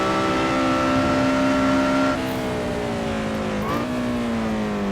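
Lotus Exige 240R in a racing video game on the Nordschleife, engine droning loud and close, then dropping in pitch as it brakes, with a quick downshift blip before the note settles again.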